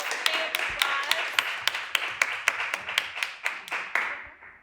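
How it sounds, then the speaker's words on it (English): A small audience at a panel discussion applauds the panelists with a run of crisp, fairly sparse claps that go on steadily for several seconds and then fade out. "I don't know if you want to give our panelists a round of applause."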